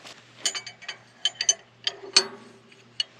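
A wrench working on tight bolts on a Case IH tractor, with a series of sharp metallic ratcheting clicks and clanks at irregular intervals, close and fairly loud over a low steady hum.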